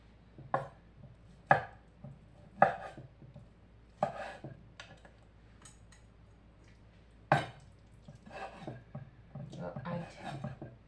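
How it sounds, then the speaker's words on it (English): A knife chops meat in a traditional African home kitchen, sharp separate thuds that come at an irregular pace, a few louder than the rest, with faint voices in the background. "Just chopping meat."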